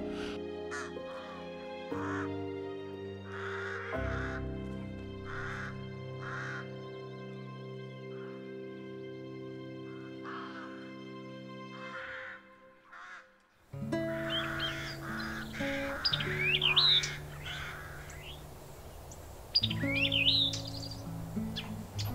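Kites, storks and crows call at a garbage dump, with harsh caws and squawks repeating over a droning musical bed, the birds growing busier and more overlapping in the second half.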